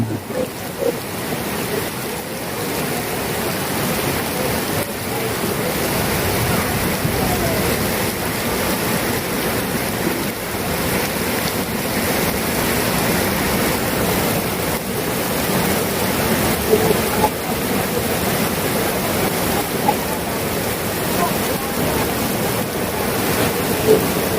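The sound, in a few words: heavy rain pouring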